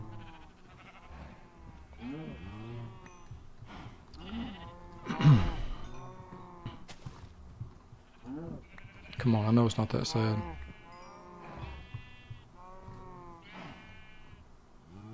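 Cows in a video game low and bleat in a cluster of drawn, wavering calls, two louder bursts standing out, while a player talks over them.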